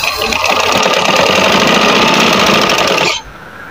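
A sewing machine runs a steady seam of side-chak fashion patti trim without pressing, a close, continuous mechanical whirr with rapid stitching pulses that stops abruptly near the end.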